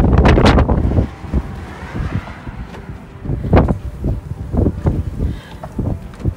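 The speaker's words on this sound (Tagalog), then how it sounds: "Grabe, ang lakas ng hangin." Strong wind buffets the microphone in loud, irregular gusts and rumbling blasts, with no voices.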